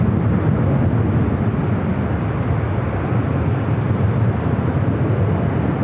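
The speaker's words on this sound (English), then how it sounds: "Have a Breeze Airbus A220-300." A Breeze Airways Airbus A220-300 lands at Los Angeles airport, giving a steady, loud jet roar that holds evenly throughout with no voices.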